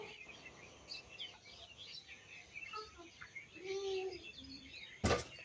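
Small birds bathing and perching in garden trees give faint scattered chirps and tweets at a distance, with one louder whistled call near the end and a brief sharp knock.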